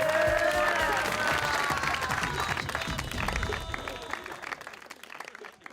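A studio audience on a comedy talk show breaks into applause with some cheering as a mimicry guest arrives, loud and dense at first and then thinning out. Faint music tones run under the clapping at the start.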